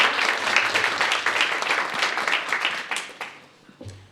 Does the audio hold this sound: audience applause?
yes